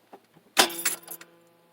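Keys jangle as the ignition key is turned in a 1990 Pontiac Bonneville, a quick burst of metallic rattling after a few faint ticks, close and fading out.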